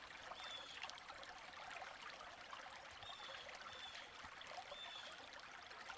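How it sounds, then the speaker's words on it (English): Creek water flowing over rocks, a soft steady wash and trickle, faint and continuous with no voices, a few high faint chirps over it. "The creek makes nice soothing sounds."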